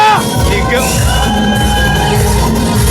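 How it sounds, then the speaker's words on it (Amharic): Worship crowd ululating and cheering together, a loud sustained wash of high trilling voices and shouts over a music bed. "በእልልታ በጭብጨባ"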